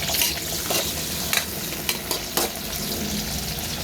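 Tomatoes sizzling in a hot frying pan after garlic, for ginisang monggo, a steady close crackling hiss with a few sharper pops and stirring scrapes throughout.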